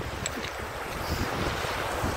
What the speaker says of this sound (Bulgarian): А е тук това мини водопадче, което се формира зад нас. Много интересно беше и много хубав звук издава.